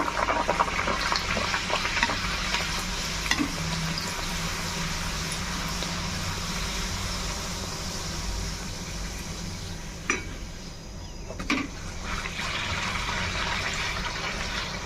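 Bengali kachuri frying one by one in hot oil, a constant dense sizzle and bubbling heard close and steady for the whole stretch, with a few soft clicks and knocks of a utensil.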